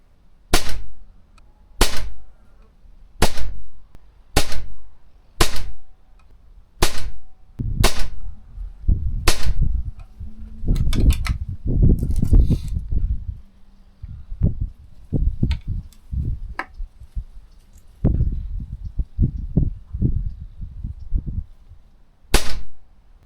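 A Brazilian RTX air rifle fires JSB heavy pellets, with a string of sharp, evenly spaced cracks roughly a second apart, followed by more irregular clicks and handling clatter between further shots.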